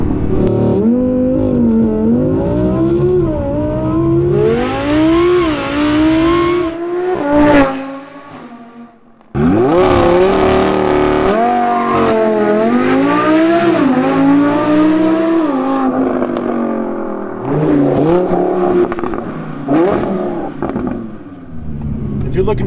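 Supercharged Audi R8 V10 accelerating hard from a launch control start, the engine howling up through the gears with rising pitch sweeps and brief shift breaks, very loud, with voices talking over it.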